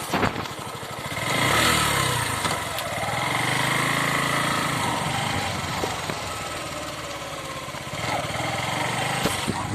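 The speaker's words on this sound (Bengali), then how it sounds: "গাড়ি চালাতে চালাতে ভিডিওটা করছি আমি বাইক চালাতে চালাতে" A motorcycle engine drones steadily while riding through a red-soil village, rising briefly then holding a constant mid-pitched hum, with light wind rush throughout.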